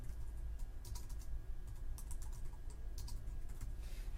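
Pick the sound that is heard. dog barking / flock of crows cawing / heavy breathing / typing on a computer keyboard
typing on a computer keyboard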